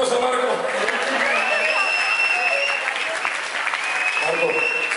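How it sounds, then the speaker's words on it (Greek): An audience claps for Markos after his song, dense continuous applause heard close and steady throughout with faint whistles on top. "Δώστε ένα χειροκρότημα στον Μάρκο."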